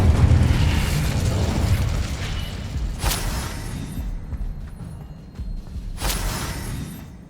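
The Incendio fire spell is cast in Hogwarts Legacy, giving a roaring, rumbling burst of flame with two sharp bright flares partway through that fade into crackling.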